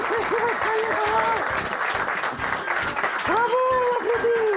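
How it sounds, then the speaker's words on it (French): An audience claps together at a French presentation, a continuous wash of applause running through with speaking voices and cheers over it. "Bravo, on applaudit."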